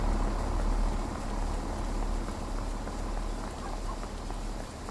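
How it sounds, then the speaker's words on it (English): Rain falls steadily at a Fife Circle Line station in the game Train Sim World, a dense even hiss with a low background hum, moderately loud and unbroken, with no speech. "It's been raining for ages, your umbrella should be up."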